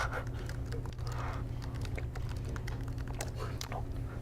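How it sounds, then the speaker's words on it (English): Quick, light keyboard clicks tap away in irregular bursts over a constant low electrical hum. "Excuse my poor typing."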